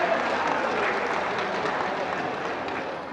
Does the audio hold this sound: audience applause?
yes